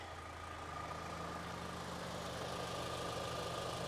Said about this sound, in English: Let's start up the engine and see what it sounds like.